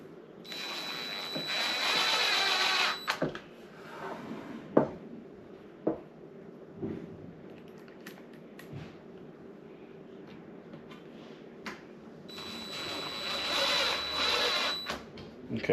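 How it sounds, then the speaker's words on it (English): Screws being driven into a Gualala Robotics light mover rail with a powered driver, two bursts of high whirring at the start and end separated by quieter clicks and handling noises, close and moderately loud. "So we just have two more screws to do."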